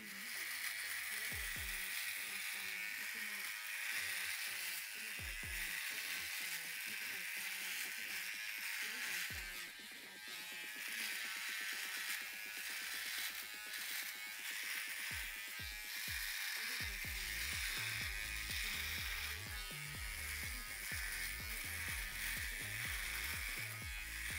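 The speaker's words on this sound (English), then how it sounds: "I can move it back and forth on my face when I'm shaving with this thing to knock down all that growth" A Philips OneBlade 360 electric shaver buzzes steadily while trimming stubble, moved back and forth across the face, with rhythmic scraping strokes over the continuous close, loud motor hum.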